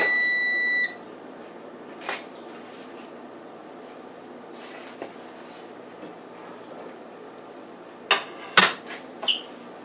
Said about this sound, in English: you can hear our off button just went off